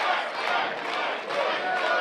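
Wrestling event crowd at an NWL Kansas City show roars steadily, a dense wash of cheering and shouting voices that surges and dips over two seconds without any clear single speaker.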